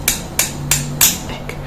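A hammer handpiece punches metal around a stone in a jewelry setting, giving five sharp, close metallic taps at a quick, slightly uneven rhythm.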